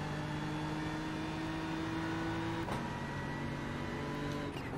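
A BMW GT3 race car accelerates at Watkins Glen in the iRacing video game, a faint, steady engine whine that holds its pitch, then shifts briefly before droning on, with no talking.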